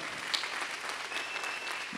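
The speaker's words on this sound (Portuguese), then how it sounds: "Dê um aplauso para o Senhor bem forte" A church congregation at a worship service claps briskly and loudly in a short, continuous burst of applause.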